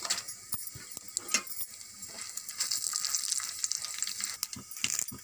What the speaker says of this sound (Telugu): పచ్చిశనగపప్పు కూడా వేగనిద్దాం